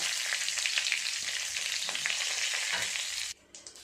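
Whole cumin seeds, two dried chillies and a bay leaf sputter in hot oil, a loud, dense, crackling sizzle close by that holds steady for a few seconds, then drops off abruptly near the end.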